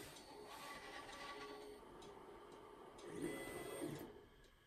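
Monoprice Select Mini Pro 3D printer homing its axes, a quiet steady stepper-motor whir with a faint rising buzz of carriage movement over several seconds, heard alone without talk.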